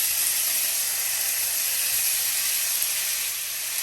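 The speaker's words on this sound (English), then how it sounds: "I'm just gonna stir fry these for about 2 minutes." Shrimp stir-frying in a hot pan give off a steady, loud, broad sizzle that holds evenly without pause, with no voices over it.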